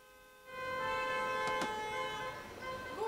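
Car horns honk in a city street below an apartment window as cars are held up by a blocked road, one or two sharp sustained tones standing out over steady traffic noise in the middle of the clip.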